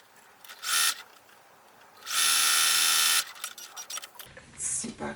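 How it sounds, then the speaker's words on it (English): A sewing machine stitches along a pieced scrap quilt edge in two quick bursts, a short run and then a longer steady whir, close by and fairly loud, with quiet handling sounds between. "Now I can sew this edge together from top to bottom."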